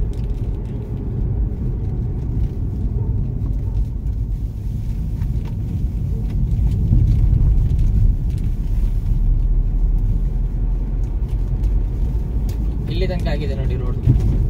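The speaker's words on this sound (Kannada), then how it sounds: "ಇಷ್ಟೊತ್ತಾಗಿ ನೋಡಿ ಒಂದು ಗಾಡಿ ಸಿಕ್ತು." A vehicle rumbles along a broken rural road in Coorg, its low engine noise steady and moderately close throughout, with a faint rattle near the end.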